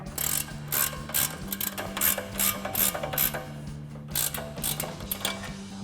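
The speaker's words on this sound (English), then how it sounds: "21mm ratcheting wrench, tighten that down" A 21mm ratcheting wrench tightening a ball joint during a 3.5-inch suspension lift install on a 2019-2024 RAM 1500, with close, loud rapid clicking in repeated bursts and brief pauses between strokes.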